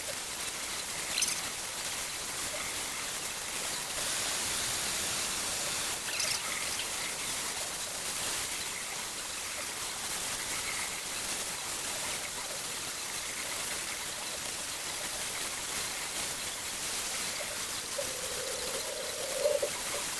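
Steady rushing and splashing of running water rinsing tie-dyed, accordion-folded fabric, a continuous broadband spray with a few louder splatters throughout.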